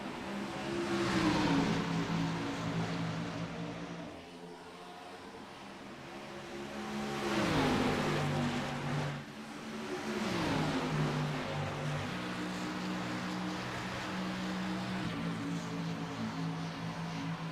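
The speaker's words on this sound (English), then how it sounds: "Green flag flies, and we're racing here at Las Vegas Motor Speedway." Race cars roar away at the green-flag start of a racing video game set at Las Vegas Motor Speedway. Engine notes rise and fall as they rev through gears, loud and continuous, with no talking.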